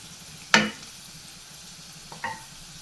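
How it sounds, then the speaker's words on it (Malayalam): Potatoes frying in a pan, with a soft background sizzle broken by two stirring scrapes, a sharp one early and a fainter one later. "കുറച്ചും കൂടെ ഫ്രൈ ആവാനുണ്ട്"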